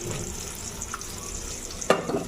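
Jute leaves cooking in a pan, a steady close sizzle with light stirring and one sharp utensil clatter near the end.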